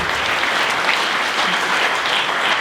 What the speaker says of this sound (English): I want to give him a big round of applause